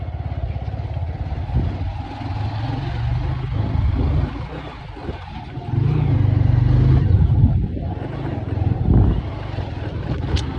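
A vehicle driven along a road, its engine a steady low rumble that swells and surges with acceleration, close and continuous throughout.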